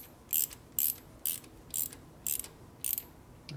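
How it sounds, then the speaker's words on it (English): A socket ratchet clicks in six short, evenly spaced bursts while tightening a bolt on a 1957 Harley-Davidson panhead engine, crisp metallic ratcheting close up against a quiet background. "Take our socket and tighten it up a little bit."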